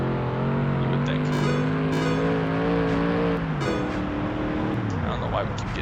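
A Ford Taurus Cup car races against a Chevrolet truck in a racing game, engine note climbing steadily through revs, dropping at a shift, then climbing again, with a voice talking over it.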